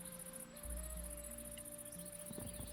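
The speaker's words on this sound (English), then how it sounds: "I hear bugs. Yeah, there's bugs." Crickets in a Minecraft world give a thin, steady high-pitched chirr, constant and fairly soft, behind a low game hum.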